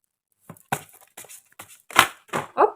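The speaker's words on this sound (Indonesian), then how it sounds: "ini Kartunya segede karpet, jadi susah mengocok" Oversized tarot cards are shuffled by hand up close, making a run of soft papery slaps and rustles that grow louder toward the end.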